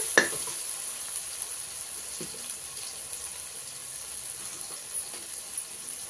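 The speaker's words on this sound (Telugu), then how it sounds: "ఈ ఉల్లిగడ్డలు టమోటా ఇవన్నీ బాగా వేగినాయండి" Onions and tomatoes frying in a pan give a soft, steady sizzle, with a few faint stirring clinks scattered through it.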